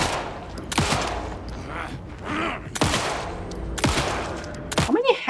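Rapid bursts of gunfire in the Alan Wake 2 video game, several sharp loud volleys spaced a second or so apart with mechanical clatter between them, close and dominant, no talking.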